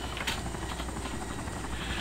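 A steady, dense whir of video game helicopter rotors drones continuously, loud and close, with a faint rhythmic chop throughout.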